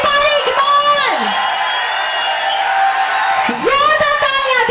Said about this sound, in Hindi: जोरदार तालियां for Mr. Sanjay Kumar